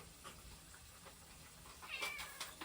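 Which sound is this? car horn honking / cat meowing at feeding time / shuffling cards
cat meowing at feeding time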